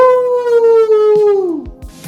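A long wolf-like howl closes a podcast episode, one sustained tone with rich harmonics sliding slowly downward and fading over about two seconds, loud and alone.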